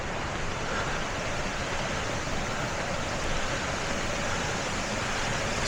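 Steady broadband rush of a flowing stream beside a trail, continuous and fairly loud with no break, like water tumbling over rocks nearby.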